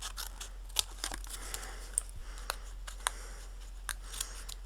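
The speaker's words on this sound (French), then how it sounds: "Je découpe tout ce qui dépasse." Scissors cutting paper to trim scrapbook tags, giving a series of close, sharp snips at an uneven pace, separated by faint rustling of the paper.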